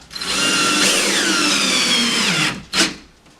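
Powered screwdriver driving a screw into wood, a steady loud whirring drone for about two and a half seconds that cuts off, followed by one short burst of the motor.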